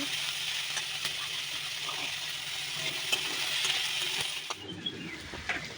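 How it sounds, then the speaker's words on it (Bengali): Onions sizzle steadily in hot oil as they fry until brown, a bright crackling hiss with a few stirring clinks, the frying easing off toward the end. "পেঁয়াজটা এখানে ততক্ষণ ভাজবো যতক্ষণ না পেঁয়াজটা ব্রাউন কালার হয়ে যাচ্ছে"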